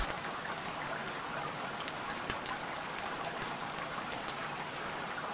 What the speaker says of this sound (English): This rain is just not passing at all here.